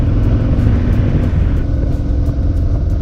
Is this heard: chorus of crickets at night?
no